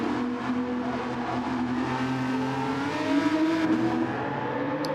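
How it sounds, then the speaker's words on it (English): A race car's engine at Laguna Seca during a racing league round, with a steady, loud, full-throated engine note and a brief swell partway through. "Sounds lovely as well, that car, doesn't it?"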